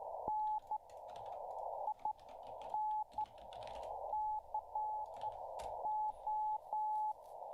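Morse code CW is keyed out as a clear, steady sidetone, with short and long beeps in a quick rhythmic pattern and brief gaps between characters.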